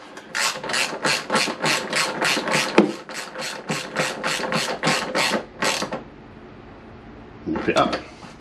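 Ratchet tightening the seat bolt on a Peugeot Django scooter, about fourteen quick, even clicking strokes up close, then a pause and a short final burst.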